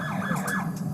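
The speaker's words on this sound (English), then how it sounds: "Kill your siren." A police siren wails nearby in rapid, repeating up-and-down sweeps, loud and steady over a low vehicle hum.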